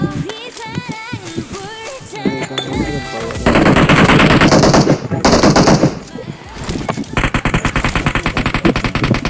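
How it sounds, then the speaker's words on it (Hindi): Rapid bursts of automatic gunfire from a machine gun in the PUBG Mobile battle royale game, loud and dense, coming in repeated sustained volleys with brief pauses between them, along with some in-game effects and noise. "यहां से फायरिंग की साउंड"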